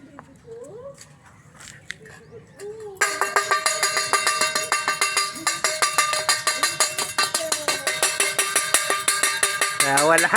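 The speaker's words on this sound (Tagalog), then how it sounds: "Tutunog ko yung plato." A plate struck repeatedly to call animals to feed, a bright ringing metallic clatter starting partway through and continuing in a steady, fairly loud rhythm, with faint voices and animal sounds in the quiet opening.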